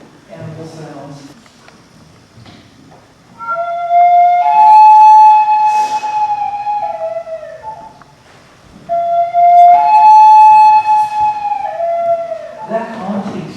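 A flute imitating a loon's call, two long wavering, haunting tones with slides, played close and clear, with a few murmured voices at the start and end.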